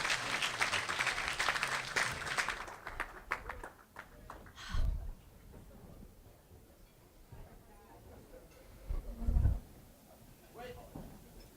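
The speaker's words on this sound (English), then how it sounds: "How about a round of applause?" Audience applause at a Chicago event, dense clapping that is strongest at the start and fades within a few seconds, followed by scattered thumps and quiet room noise.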